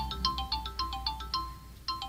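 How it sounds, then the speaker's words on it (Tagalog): A mobile phone ringtone plays a bright, repeating electronic melody of short tones in a steady rhythm. It is close and clear, with no voices. "Kasi may tumatawag sa akin sa cellphone ko."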